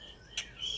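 A tengkek buto bird gives two brief, faint chirps less than a second apart over a quiet background.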